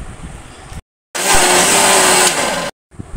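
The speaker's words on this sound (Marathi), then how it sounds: "आता हे मिक्सरला लावून झालेलं आहे" A kitchen mixer grinder blends mango pulp for homemade aamras in one loud, steady whirring run of about a second and a half, with quieter motor noise just before and after it and no talking.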